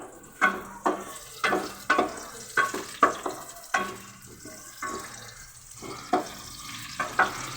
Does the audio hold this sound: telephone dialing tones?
no